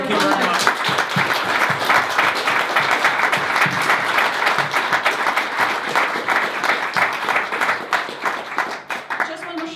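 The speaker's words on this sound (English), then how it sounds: "Please give a warm round of applause." Audience applause at a tech talk event, dense steady clapping from a crowd filling the room continuously, loud and close, with some voices mixed in.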